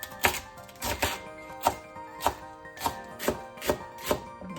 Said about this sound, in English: I'm just going to shred up these cabbages